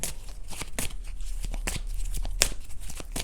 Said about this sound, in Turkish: Bir kart daha çekelim mi?